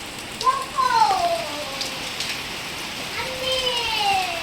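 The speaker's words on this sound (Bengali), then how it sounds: "প্রচণ্ড পরিমাণে বৃষ্টি হচ্ছে, প্রায় বৃষ্টি হচ্ছে।" Heavy rain pours down in a steady, dense hiss close by, while voices talk over it.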